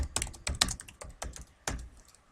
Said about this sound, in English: Control A will select it, backspace over it, and we're going to type Sunny Acres